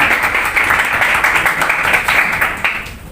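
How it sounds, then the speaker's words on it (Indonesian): Audience clapping to welcome a speaker at a youth community party, a brief steady burst of many hands clapping close and fairly loud throughout. "Tepuk tangannya dong."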